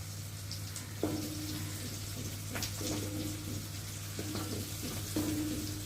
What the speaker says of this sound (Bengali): এবার দিয়ে দেবো কেটে রাখা কুমড়ো আর আলুগুলো।